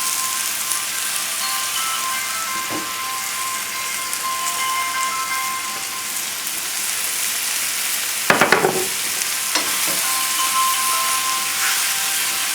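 Onions, garlic and broccoli sautéing with chicken sausage in a hot pan, giving a loud, continuous frying sizzle with a few brief stirring clatters, no speech.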